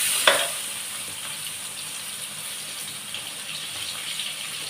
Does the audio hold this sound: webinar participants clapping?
no